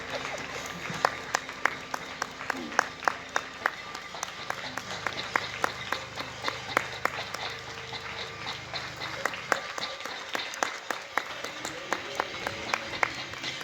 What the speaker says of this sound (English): The NHS Clap is just winding up.